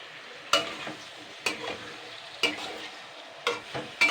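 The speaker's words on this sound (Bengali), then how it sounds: "3-4 মিনিট কষিয়ে নেবো আগে মশলাগুলো দিয়ে" Potatoes and ground spices, including cumin powder, sautéed in a pan for an egg curry: a spatula scrapes through them about once a second over a soft, steady sizzle, close and fairly quiet, with no talking.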